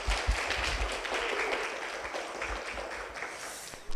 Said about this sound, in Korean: 우리 부사장 다시 한번 큰 박수 보내주실까요?